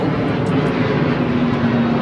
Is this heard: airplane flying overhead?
yes